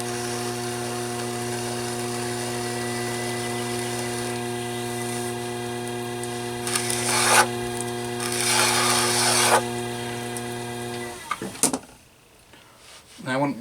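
Bulk clay being trimmed off a pottery lidded jar near the handle, a steady rasping scrape over a constant wheel hum, with two louder scraping bursts before the motor stops and a voice speaks briefly at the end.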